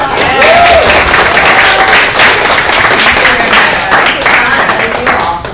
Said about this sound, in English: we're definitely going to clap.